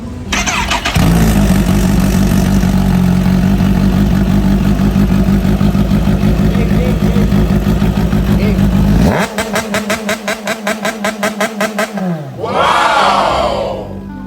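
A Kawasaki Z H2 motorcycle engine holds a loud, steady high rev, then breaks into a rapid stuttering pulse of limiter-like bursts before a final rising revving surge during a launch.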